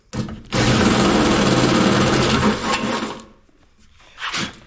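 A unibit step drill bores through material, a loud continuous whirring grind that runs steadily for about two and a half seconds, tapers off, then returns in a brief second burst near the end.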